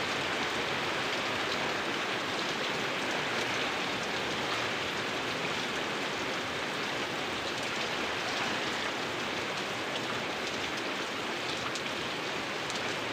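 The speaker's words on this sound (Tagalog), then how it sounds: "umulan na naman ulit" Steady rain pours down in a dense, even hiss with no breaks, close around and alone, during a typhoon by the sea.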